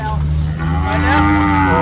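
Beef cattle mooing at a busy livestock market in Sakon Nakhon, Thailand, a couple of long, close, loud bellowing calls over a steady background hum of the crowded market.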